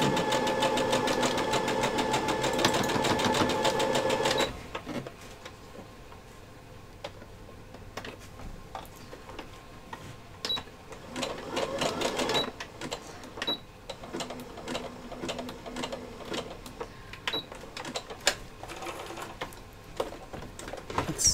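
A sewing machine runs with a dense, loud mechanical whir for several seconds, then stops, leaving scattered lighter clicks and handling sounds.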